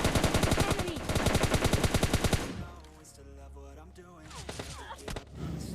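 Automatic gunfire in the mobile shooter game PUBG Mobile Lite rattles in rapid loud bursts for a couple of seconds, then gives way to quieter game sounds and a few scattered shots, with a voice talking.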